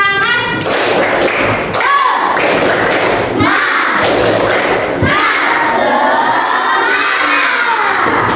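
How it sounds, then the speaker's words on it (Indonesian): Elementary schoolchildren in an Indonesian classroom perform a 'tepuk semangat' clapping chant, loud group shouting with rhythmic claps and thumps in bursts, many young voices close and energetic. "Semuanya tepuk semangat dulu"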